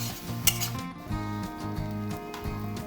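A lid goes onto a pot of simmering chicken tikka masala gravy with a brief metallic clink early on, then a steady low bubbling hum continues.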